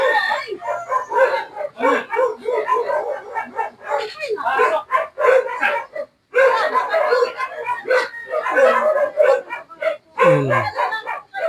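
Several dogs bark and yip repeatedly at close range, in overlapping bursts with a brief whimper, as people talk alongside them.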